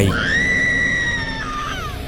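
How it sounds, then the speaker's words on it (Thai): A tormented ghost's drawn-out, wavering scream in a horror tale, one sustained high wail that bends and slides downward near the end, loud and close over a low rumbling bed. "จนกระทั่งมีเสียงกรีดร้องของวิญญาณ อย่างทรมาน"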